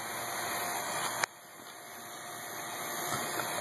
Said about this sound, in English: I got a vacuum pump hooked up to my gauges.